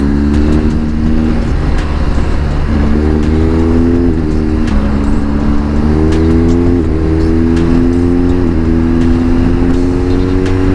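A 2022 BMW R1250 GS Triple Black motorcycle engine revs loudly and close, rising repeatedly through a rhythmic series of throttle pulls over a constant rumbling idle.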